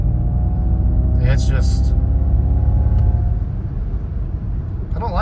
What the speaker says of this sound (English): it sounds like you can hear the motor more than I would expect